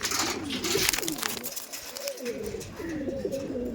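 Pigeons in a loft of about a hundred birds coo in soft, repeated rolling calls, several birds overlapping close by amid rustling and faint background noise.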